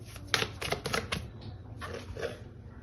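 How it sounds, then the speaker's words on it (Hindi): A deck of tarot cards is shuffled by hand in a quiet room, several quick, crisp riffling bursts in a row followed by a softer flurry, close and fairly faint. "I don't know why I started shuffling again"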